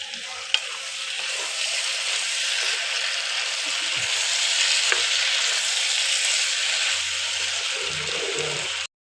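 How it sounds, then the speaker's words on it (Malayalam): Mango pickle with a spoonful of asafoetida powder being stirred in a hot pan, a steady broadband sizzle with scraping stir sounds and a few faint clinks, continuous and close, no talking. "നമുക്ക് ഇളക്കാം."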